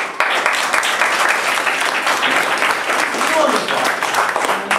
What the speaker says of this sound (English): Clap for you, clap.